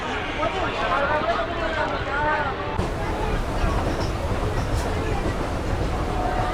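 Crowded passenger train bound for Tarakeswar during the Shravan pilgrimage, a continuous rumbling run with faint rail clatter beneath steady nearby talk.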